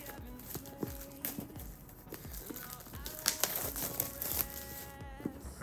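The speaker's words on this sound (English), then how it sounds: "All right, so opening the box just like that." The cardboard box of a Neewer CM28 wireless microphone is opened up close, giving a run of soft crinkles, scrapes and light taps of packaging being handled, fairly quiet and with no talk.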